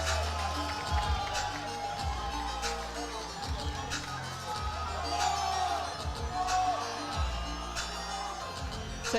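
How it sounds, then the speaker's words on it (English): An arena crowd at the Sheffield 2025 powerlifting meet cheers and shouts in answer to a lifter hyping them up, a dense, continuous roar with rising whoops throughout. "He calls for the crowd and they respond."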